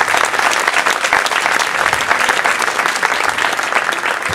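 Sustained applause from a concert audience at an outdoor band performance for the feast of San Bartolomeo in Portacomaro, dense steady clapping filling the whole stretch with a faint crowd murmur.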